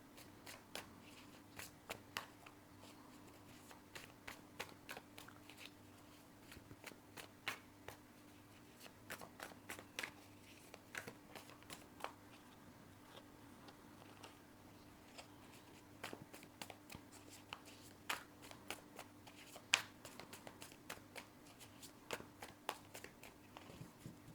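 Tarot cards handled and shuffled continuously, giving quick, soft riffling clicks in irregular bursts, close and fairly quiet, with no talking.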